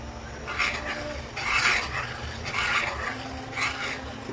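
Pasta with oregano being stirred in a pot, a steady scraping and clinking of a spoon against metal in repeated strokes roughly once a second, close and continuous with no voices.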